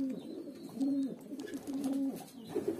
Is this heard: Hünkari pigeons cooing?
yes